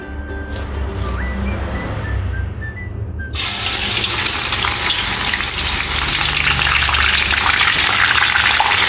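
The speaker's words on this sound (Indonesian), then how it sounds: "Sekarang waktunya kita goreng karena minyaknya sudah panas." Shallots frying in hot oil for crispy fried shallots, starting with quiet kitchen sounds before a sudden loud, steady hiss and crackle of sizzling that continues evenly, close and dominant, with no talk.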